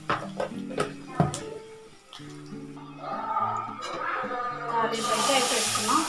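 Mustard seeds and turmeric crackle in hot oil for a dal tempering; a broad sizzle swells near the end under voices and tonal background sound.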